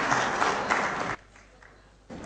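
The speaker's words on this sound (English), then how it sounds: "I should also give Algeria an applause for their presentation" Brief applause from a conference audience for the Algeria delegation at an Arab Governance Week session: a dense patter of clapping that cuts off after about a second, leaving quiet room tone.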